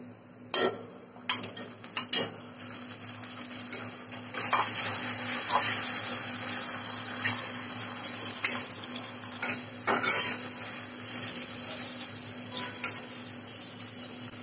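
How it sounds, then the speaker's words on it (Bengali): A hilsa fish head, cut in two, goes into hot oil tempered with black cumin, sizzling steadily with sharp clinks and scrapes of a utensil against the pan at the start and throughout. "এখন দিয়ে দিচ্ছি একটি ইলিশ মাছের মাথা।"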